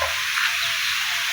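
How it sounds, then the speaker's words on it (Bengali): Steady rain pours down over a village in Daulatpur, Manikganj, a dense, even hiss that stays loud and unbroken from start to end with no voices. "বৃষ্টির শব্দ নিশ্চয়ই শুনতে পাচ্ছেন।"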